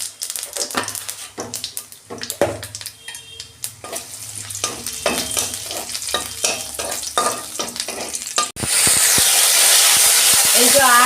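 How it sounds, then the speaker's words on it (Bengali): Dried red chili tempering in hot white oil in a wok, with stirring clatter and a steady fry that bursts into a loud, continuous sizzle near the end. "কড়াই তেল দিচ্ছি, এটা সাদা তেলে করছি। একটা শুকনো লঙ্কা ফোড়নে দিচ্ছি"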